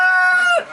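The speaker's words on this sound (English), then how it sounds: "This is the new rooster, Louie." A rooster on a small farm gives a single loud, close crow that holds a steady pitch before breaking off at the end.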